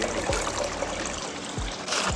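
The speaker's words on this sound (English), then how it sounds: "makeshifted this pipe setup to get water going to our custom-made pool" Water trickling from a makeshift pipe into a custom-made hot spring pool, a close continuous splashing dribble with a few brief thuds, steady and moderately loud, with no talk.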